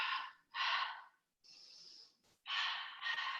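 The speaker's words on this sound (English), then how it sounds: "So we go exhale, exhale, inhale, center, exhale, exhale, inhale, center." Forceful breaths during a barre exercise: two sharp exhales, a softer inhale, then another strong exhale, close and rhythmic with short pauses between them.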